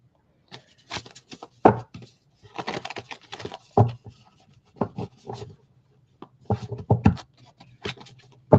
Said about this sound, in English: I need to learn to shuffle this deck